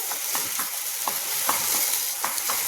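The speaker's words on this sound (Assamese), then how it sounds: "শুকাই যোৱালৈকে মই ইয়াত লৰাই আছিলোঁ এনেকৈ হেতাখনে" A spatula repeatedly scrapes and stirs carrot halwa in a pan, giving rhythmic close strokes over a constant bright sizzle with no voices.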